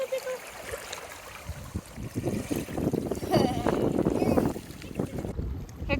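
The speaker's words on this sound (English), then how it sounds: "comes our boat" Boat approaching across the water near the end of a Patagonia trek, a broad rumble of engine and water that swells toward the middle, with wind buffeting the microphone and people talking intermittently over it.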